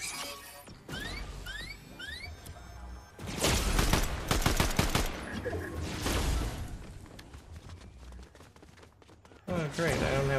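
Video game gunfire erupts in loud, dense bursts and rapid volleys with crashes and whooshes mixed in, easing to scattered shots before another close, heavy burst near the end.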